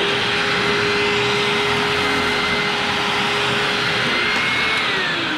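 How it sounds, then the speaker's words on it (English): A Hoover self-propelled WindTunnel upright vacuum cleaner runs steadily and loudly close by, a continuous motor roar with a high whine and no talking. "now for my self-propelled wind tunnel by Hoover"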